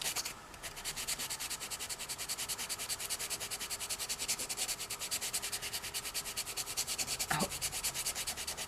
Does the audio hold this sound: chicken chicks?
no